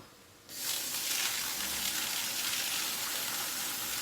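Running water gushes into a rice washer bowl holding rice and lentils, a steady close hiss and splash that starts abruptly after a brief quiet moment and continues without a break.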